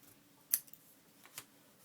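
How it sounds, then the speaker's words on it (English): Scissors make two quick, faint snips as they cut through paper for a junk journal, with a small rustle between them in an otherwise quiet room. "this little bit we're going to cut right off."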